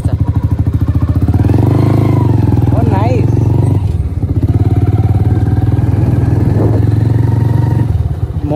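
Motorcycle ridden at moderate speed with a steady, loud engine drone that dips briefly as gears change, while people talk over it throughout.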